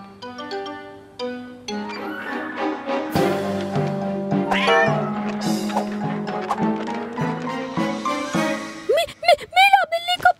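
Cartoon cat meowing in a children's superhero story, several drawn-out, pitched meows over bright background music, with speech-like voices mixed in and a burst of louder wavering cries near the end.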